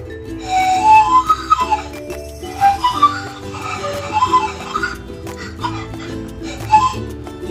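Breathy Andean panpipes (zampoña) play short, airy melodic phrases in quick bursts with brief pauses between them, close and fairly loud.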